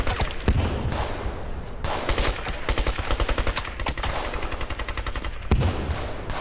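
Machine guns on a World War I battlefield rattle in loud, sustained bursts, rapid shots overlapping almost without pause, with a few heavier thuds standing out.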